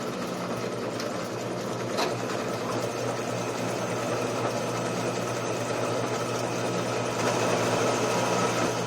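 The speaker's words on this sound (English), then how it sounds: "let's drill a hole in this bracket here." A power drill bores a hole through a metal bracket in a cyclekart workshop, a continuous close motor whine with a steady grinding drone and a slight rise near the end.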